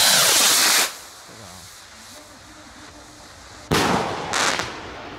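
A short multicolour firework rocket on a stick, made in Italy and with a slightly bent stick, bursts in a loud, close crackling blast, then a quieter stretch, followed by a second sharp crackling burst near the end.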